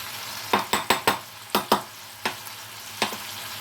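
Chicken frying with ground spices in a pan for chicken curry, a low sizzle under a series of about nine sharp spatula scrapes and taps, evenly spaced at first, then sparser; no voices.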